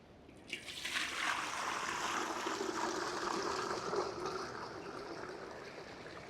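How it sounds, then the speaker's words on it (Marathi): A steady stream of water pours into a pot, starting abruptly and continuing at an even, close rush before easing slightly toward the end. "आता त्याच्यात पाणी टाकून घेणार आहोत"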